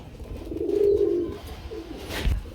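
Pigeons coo at a farm, one low, throaty coo swelling clearly near the start and a shorter coo following, with faint background bustle around them.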